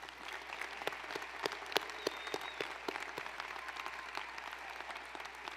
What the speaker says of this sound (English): Let's have another round of applause for our new alumni.